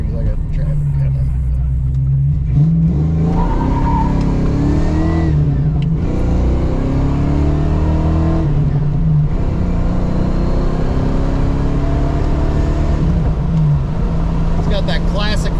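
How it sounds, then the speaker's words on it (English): A Fox body Mustang with Flowmaster exhaust pulls away from a stop, its engine revving loudly and rising in pitch through gears from inside the car, with a voice heard over it. "That classic Flowmaster sound."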